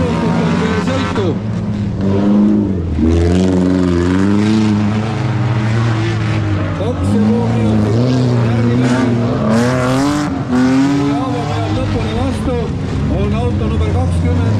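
Cars engines roaring continuously in the final heat of a Libatse Romuraicing race in 2024, loud and close, under constant commentary talk.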